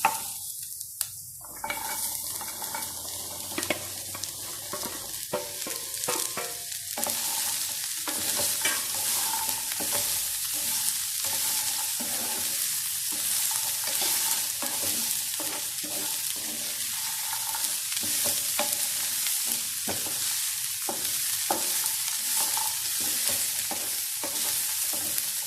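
Green beans being stir-fried in a pan for a Kerala-style payar mezhukkupuratti, with a steady, continuous sizzle and frequent scraping stir strokes throughout, close and fairly loud.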